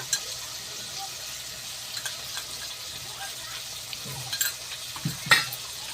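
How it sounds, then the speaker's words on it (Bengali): Ginger paste and tomato frying in a pan give a soft, even sizzle, with scraping and stirring sounds and a few louder clacks of a utensil toward the end. "এটাও আবার ভালো করে ভেজে নেব।"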